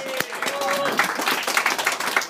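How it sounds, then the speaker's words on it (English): A comedy club audience bursts into applause for the new judges, a fast ragged patter of many clapping hands with cheers and voices over it, close and lively. "One more time, clap it up for the new judges that came in."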